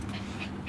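A dog pants in short, quick breaths close to the microphone, a brief burst of soft huffing with no talk over it.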